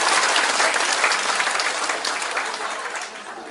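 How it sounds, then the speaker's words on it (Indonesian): An audience claps steadily after a talk, dense broadband applause that stays strong and then gradually thins and fades toward the end, with no voices above it. "Kita beri tepuk tangan dulu."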